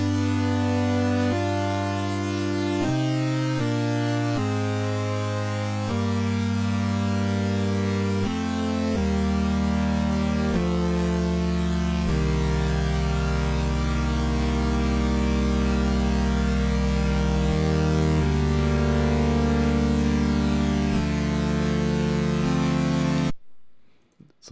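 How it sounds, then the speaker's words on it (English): A dense, organ-like synth from a track holds full sustained chords that shift slowly for over twenty seconds, loud and alone, built from saw and medium pulse waves and filling out the middle range. "we have this organ-like synth really filling out the middle."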